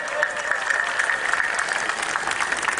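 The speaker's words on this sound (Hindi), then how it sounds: "किसी नेता के लिए नहीं. जोरदार बजाइए." Audience applause at a speech on Swami Vivekananda, a steady dense wash of clapping filling the hall throughout, loud and continuous with no voices over it.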